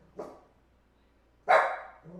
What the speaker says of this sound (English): Mailman shows up, dogs barking, Landon staring at me